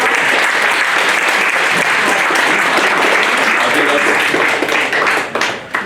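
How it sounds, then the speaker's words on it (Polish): Crowd at a kickboxing weigh-in bursts into loud, continuous applause for a female fighter, dense clapping holding steady before trailing off at the close, with voices faintly mixed in. "Wielkie brawa dla Gosi."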